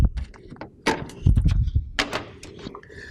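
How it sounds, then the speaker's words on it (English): Plastic clunks, clicks and rattles as the door of a GeneralAire electronic air cleaner is fitted back on after both cells are reinserted, several close, sharp knocks in an irregular sequence with no talking. "put the door back on."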